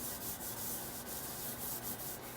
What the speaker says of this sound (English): just with the scrub pad, you can just start scrubbing away to get your sink clean